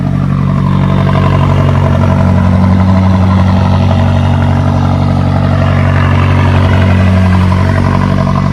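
A McLaren 570S twin-turbo V8 runs at a loud, close, steady idle, its deep rumble holding constant with slight swells in pitch, and no talking over it.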